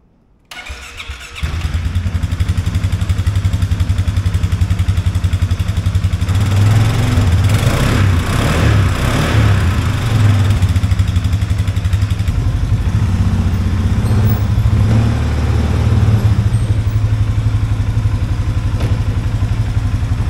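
A 2015 Polaris Sportsman 570 X2 ATV engine starts and runs steadily for about twenty seconds, a loud close rumble that rises and falls slightly with throttle, with no talk.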